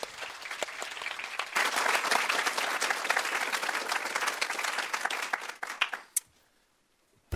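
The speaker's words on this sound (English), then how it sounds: "let me ask, give you a final applause for the panel." Sustained audience applause closes a policy panel on gender differences in the labour market, dense and steady for about six seconds before fading out into near silence.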